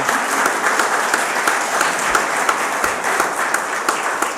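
A church congregation at a Sunday service applauds with a dense, steady round of clapping that holds at an even level for several seconds, with no talk over it.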